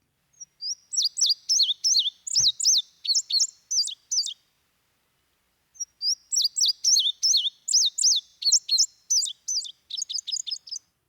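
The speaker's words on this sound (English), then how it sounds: "Today, I give you the indigo bunting, the blue finch, which is an amazing bird to see." An indigo bunting sings two bright, high phrases of quick paired chirps and sweet notes, separated by a short silence, clear and alone.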